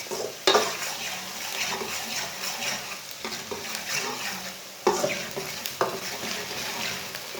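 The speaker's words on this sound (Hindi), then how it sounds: "प्याज को ऐसे ही चम्मच चलाते हुए ब्राउन करना है," Onions browning in hot oil in a pan, sizzling steadily while a spoon scrapes and stirs them, with a few sharper metallic clinks against the pan.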